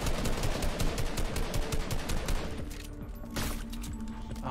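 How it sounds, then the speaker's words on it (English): Rapid automatic gunfire in a Floor is Lava battle royale game, dense bursts of shots firing in quick succession for a couple of seconds, then thinning into scattered shots, loud and close. "Why are they shooting at us?"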